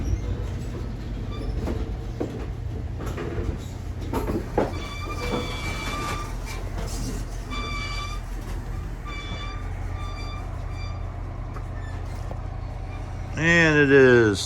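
A special 13-car private railroad car train runs past at Bellows Falls, Vermont, with a loud steady rumble of wheels and cars, clacking and brief squeals, and a horn blast near the end.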